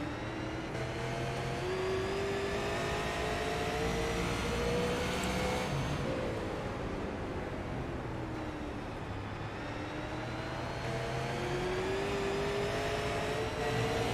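Onboard engine of a Grassroots super late model race car in iRacing at Thompson Speedway, a loud continuous drone that rises and falls in pitch through shifts and corners, with no talk over it.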